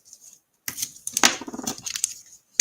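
Scissors snip through washi tape on a handmade bookmark in a quiet indoor craft setting, giving a few close, crisp cuts and a short rustle of paper and tape after a brief silence.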